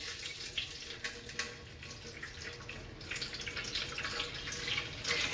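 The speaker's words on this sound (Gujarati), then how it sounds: "ચારસો ગ્રામ પાણી નાખી દઈએ" Water poured into a mixture for sev dough, a faint splashing trickle with uneven bursts of pouring and dripping, close by and quiet, with no voices.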